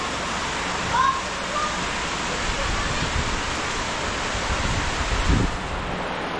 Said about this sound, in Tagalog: Ngayon ay mag-alas 4 na pero hindi pa rin tumitigil yung ulan.